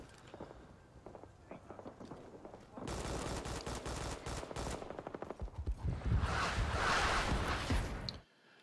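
Artillery barrage in Rising Storm 2: Vietnam: a rapid run of sharp, loud blasts and cracking impacts bursts in after a quiet start, followed by a roaring wash of debris and rumble that cuts off abruptly.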